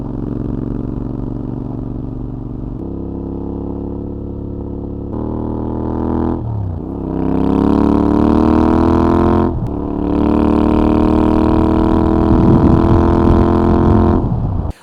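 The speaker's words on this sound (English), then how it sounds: "I will go ride on motorway and see how the bike behaves there" A motorcycle with a changed front sprocket cruising on a motorway, engine droning steadily and loud up close with shifting pitch as it shifts gears and accelerates, and wind rush building over the ride.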